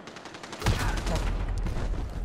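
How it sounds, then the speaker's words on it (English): Gunfire rips through a wall in Call of Duty: Modern Warfare, a rapid burst of automatic shots starting abruptly after a short quiet moment and continuing loud and close. "Dude's like shooting a whole clip through the wall."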